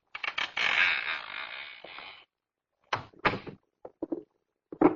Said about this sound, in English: That door's already partially open.